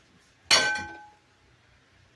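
A glass bowl is set down on a kitchen counter with a single bright clink that rings briefly and fades, followed by quiet and the onset of another clink at the very end.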